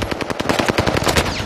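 Rapid automatic fire from an STG-44 assault rifle in the game Warzone, a single shooter's burst of sharp, evenly spaced shots that stays loud and close for the whole stretch.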